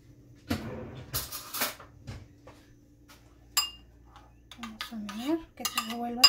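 A utensil clinks and scrapes in a bowl while salsa cruda ingredients are stirred, giving scattered near taps and clatters with quiet gaps between them.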